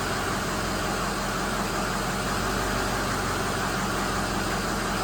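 A 2006 Ford F-250 with the 6.0 engine runs steadily during an EGR duty-cycle test, a loud, close and unchanging diesel drone with constant broadband hiss and no talking.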